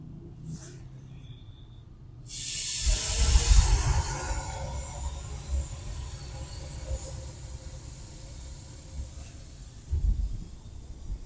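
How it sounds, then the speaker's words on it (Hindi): A gas stove burner is lit for cooking Kabuli pulao, and a loud, breathy hiss swells in after about two seconds, then settles into a steady rushing roar that lasts to the end. "आप देख सकते हैं ये चूल्हा जला रहे हैं।"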